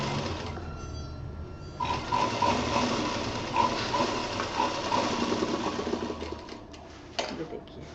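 A sewing machine runs in steady bursts while stitching a DIY picnic bag, its motor whirring close by with brief pauses and changes in pace.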